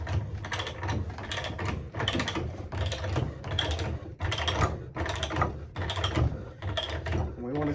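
Hand pipe threader cutting threads on low carbon steel pipe, a repeated rhythmic ratcheting and grinding with regular bursts about every half second, close and steady throughout.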